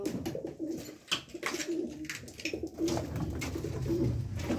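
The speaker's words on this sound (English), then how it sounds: "pigeon" Pigeons coo inside an abandoned chemical factory. Repeated soft low coos sound fairly near over a noisy, echoing background, with no speech.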